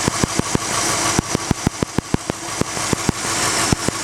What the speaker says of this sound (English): That scrubbing noise just about disappears when you're standing next to it.